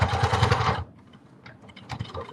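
A sewing machine stitching slippers runs in a fast, steady burst for under a second and then stops, leaving only faint scattered clicks and handling noise.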